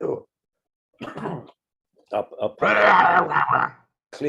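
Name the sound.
throat clearing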